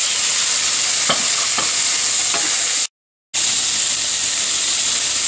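Beans added to a pan of onions and spices for a vegetarian quesadilla filling, frying with a constant bright sizzle and a few stirring scrapes, briefly cut to silence midway before the sizzle resumes.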